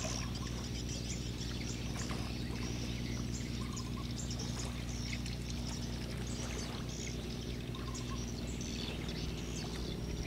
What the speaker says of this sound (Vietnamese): Tiếng máy mình sao mình thấy cái nghe nó giống như là một cái máy bình thường vậy ta